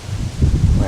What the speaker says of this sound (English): I know you can hear the trees rustle with the wind